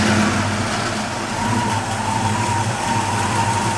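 A 1968 Shelby GT-350 V8 idles close by with a steady, throaty rumble and a slight uneven lope, holding a constant loudness throughout with no voices heard.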